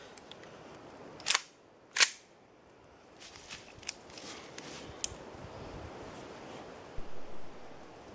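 An AR pistol build fires .223 Tula ammunition outdoors, two sharp distant shots about a second apart followed by faint clicks and low wind noise.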